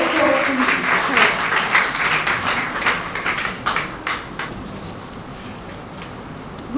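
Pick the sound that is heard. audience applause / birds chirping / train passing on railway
audience applause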